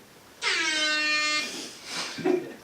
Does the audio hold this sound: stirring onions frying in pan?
no